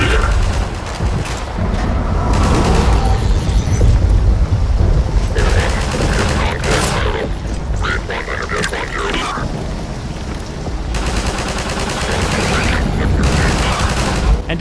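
Submachine gun fire in the video game Entropy: Zero 2 comes in dense, loud bursts of rapid shots with booming impacts and chaotic combat noise throughout.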